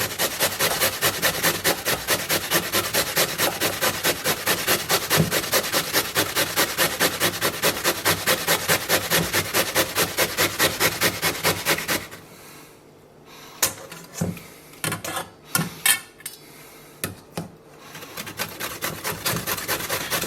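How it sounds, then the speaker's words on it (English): Potatoes are shredded by hand into cold water, a loud, fast, steady rasping rhythm of regular strokes for about twelve seconds, then it stops and a few sparse knocks and splashes follow. "So first I'm shredding these into cold water."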